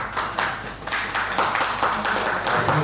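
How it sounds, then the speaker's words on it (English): Audience at a press conference claps, a brief patter of applause from a modest gathering, fairly close and steady for a few seconds. "Give a round of applause."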